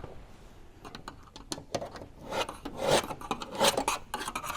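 Aluminum sheet metal for a window scoop is trimmed with a rasping cutting tool, making irregular scraping strokes that grow louder and denser, close up and without talk.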